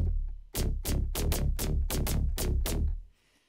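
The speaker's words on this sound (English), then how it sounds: "Right, progressive neuro bass." Progressive neuro bass synth preset from a Serum pack, eight punchy, gritty bass notes in a steady rhythmic pattern, loud and dry, ending abruptly into near silence.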